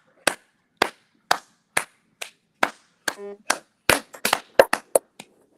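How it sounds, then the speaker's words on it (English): One person claps hands in a slow, uneven series of about a dozen sharp, close claps, some coming in quick pairs near the end, with a short tonal blip partway through. "I'm giving a round of applause"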